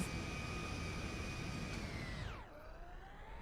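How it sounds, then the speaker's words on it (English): Jet engines of the Air Force One plane in GTA 5, a steady loud whine with a high tone that drops sharply and then rises again as the engines cut out and back in. "the engines keep cutting in and out"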